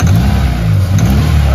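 Mitsubishi Lancer with a 4G92 engine suffering a misfire and loose compression, revving loudly up close with an uneven, rough pulsing note and low rumble throughout.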